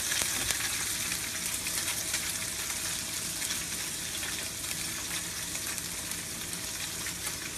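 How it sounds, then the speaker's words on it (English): Fish fillets sear in a hot pan with a dense, steady sizzle and crackle, close and continuous without any talking. "I'm going to let those sear for a little bit"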